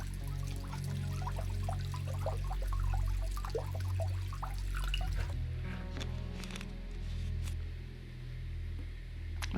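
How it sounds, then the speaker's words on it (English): Water pours into a bowl and drips with small splashy trickles over a low rumbling background, then settles into quieter scattered drips; no one speaks. "focus on the water when I pour it"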